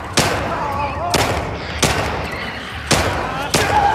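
Gunshots in the video game The Last of Us Part II, five sharp loud cracks spaced about a second apart, each followed by a short ringing decay.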